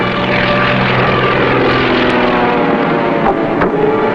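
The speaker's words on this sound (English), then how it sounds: "Wave at those planes." Propeller planes fly overhead, their engines a steady, loud drone that fills the whole stretch without a break and with no voices over it.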